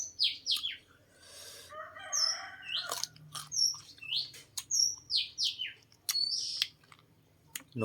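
Small birds chirp in rapid high notes, while a rooster-like call rises briefly in the background.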